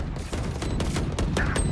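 Rapid bursts of video game gunfire, loud and close, crackling in quick overlapping volleys with no talk over them.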